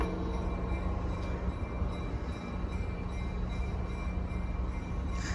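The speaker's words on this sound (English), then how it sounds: "Oh look, the train's moving." A New Haven Railroad engine pulling Reading Company cars past at the Danbury Railroad Museum, giving a steady, nearby rolling rumble with a faint hum and occasional wheel squeal throughout.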